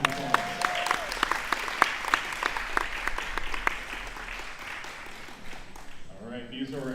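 A modest crowd at a REPS AHEAD Pro 2 athletic event claps for the athletes with distinct, scattered claps that gradually thin out, before a voice begins speaking at the end.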